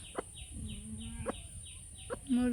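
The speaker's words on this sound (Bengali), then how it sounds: "এই যে মুরগি" Chickens cluck in short, separate calls over a steady background hum, moderately close. One longer call near the end is louder than the rest.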